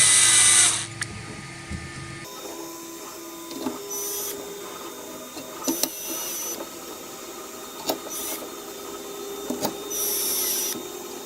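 A power tool drives and tightens M4 bolts on a bottom rail and backplate in several short whirring bursts, with quieter handling clicks in between.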